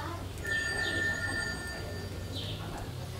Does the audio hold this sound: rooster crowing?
no